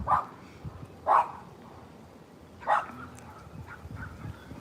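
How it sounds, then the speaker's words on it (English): Three short barks from a dog at a moderate distance on a beach at sunrise, spaced about a second apart, over a quiet outdoor background. "Hey, you guys, quit barking."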